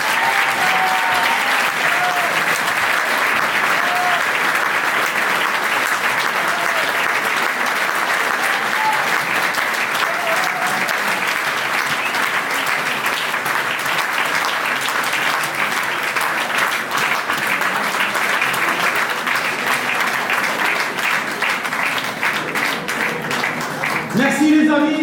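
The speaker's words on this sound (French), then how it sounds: "Mesdames et messieurs, sous vos applaudissements," Sustained audience applause at a 2025 New Year's greetings ceremony honoring the municipal council, dense and steady clapping filling the room for about twenty-five seconds, with a little crowd murmur mixed in.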